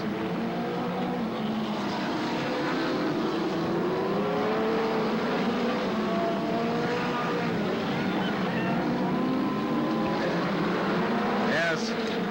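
USAC midget race cars roar around the Speedrome oval in a steady, dense engine drone, several cars blending into a continuous loud racing sound, with a commentator talking over it.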